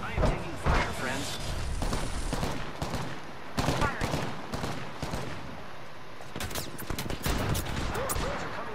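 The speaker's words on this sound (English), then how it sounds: "I am taking fire, friends." Rapid bursts of gunfire from Apex Legends ranked play crackle in repeated volleys, some close and loud, some more distant, under a steady game soundscape with people talking throughout.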